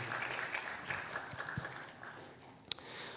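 A church congregation at a Sunday service claps briefly for the praise team, a soft, diffuse patter of applause ending with one sharp, close clap.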